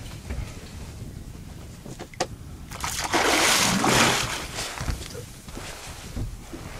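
A hooked fish thrashes and splashes at the water's surface, a loud burst of sloshing in the middle amid smaller drips and knocks, with people talking nearby.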